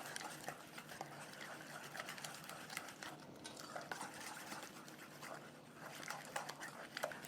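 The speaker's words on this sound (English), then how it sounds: "So I'm going to mix this up really well." Dairy-free tzatziki sauce with a dash of fish sauce being stirred in a bowl, a steady run of scraping and clinking of a utensil against the dish, fairly quiet and continuous with no talk.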